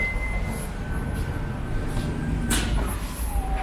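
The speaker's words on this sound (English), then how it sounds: "So we've got those automatic doors again." A powered sliding door on a 2016 Toyota Vellfire 2.5X Hybrid eight-seater runs with a steady motor whine and low rumble, ending in a brief thud as it settles, heard up close with no talking.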